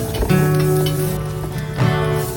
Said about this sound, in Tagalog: ginisa na po natin ang ating bawang